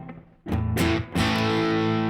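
Electric guitar played through a Marshall amp on a crunchy, mildly distorted setting, heard alone as a quiet note followed by two loud strummed chords, the last one ringing out sustained.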